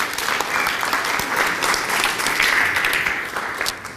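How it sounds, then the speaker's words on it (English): A crowd at a Rhode Island Labor Day 2014 gathering of retired union members gives John a warm, steady round of applause, dense clapping held at an even level throughout. "And how about another round of applause for John?"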